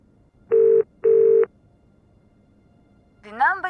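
Phone call in the video game Broken Sword 4: two steady electronic ringback tones, each about half a second long, then a pause, then a voice begins speaking at the end.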